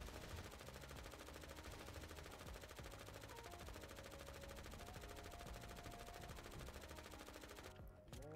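A submachine gun fires in rapid, sustained bursts in GTA V on a NoPixel roleplay server, a steady faint rattle of automatic shots that continues for several seconds.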